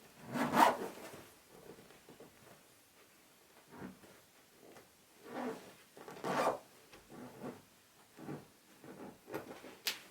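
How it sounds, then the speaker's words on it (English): A zipper on a sewn cushion cover for an Ercol Windsor chair is pulled closed in several short, raspy strokes. The quiet, close zips come in irregular bursts with pauses between them. "It was almost all worth it just to hear that zip."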